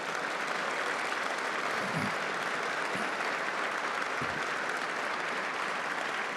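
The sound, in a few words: standing applause for parents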